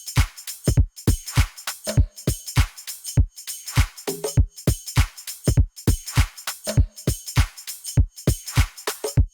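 Layered tropical house drum loops stacked on top of each other play a busy, syncopated groove of punchy kicks and crisp hats and percussion, with short tonal hits appearing every couple of seconds, loud and without talk.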